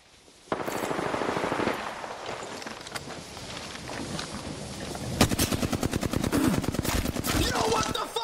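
Rapid automatic gunfire from Apex Legends, a loud steady stream of shots with a denser, sharper burst of fire near the end, mixed with other game sounds.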